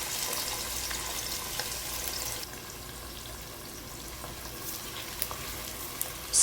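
Sliced onions frying in a pan with cinnamon sticks, cloves and cardamoms for mutton biryani, a steady close sizzle with occasional stirring scrapes, no talk.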